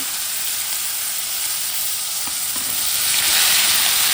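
Cauliflower pieces fry in a little oil with turmeric and salt, a loud, even hissing sizzle that swells slightly toward the end.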